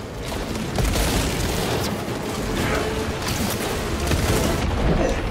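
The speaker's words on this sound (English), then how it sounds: "Throwing frag grenades!" Frag grenade blasts and heavy gunfire in the Space Marine 2 video game, dense continuous booming and crackling across the whole stretch, loud and close, with faint voices mixed in.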